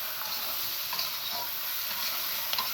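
Cucumber and tomato are stirred into fried spice paste in a pan, giving a steady, close sizzle and frying hiss with faint scraping stirs throughout.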